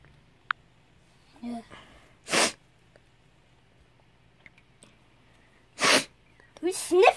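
Several sharp human sneezes burst out in a game setting, a loud one near the middle and another followed by a snort-like breath near the end, with quiet stretches and faint sniffing between.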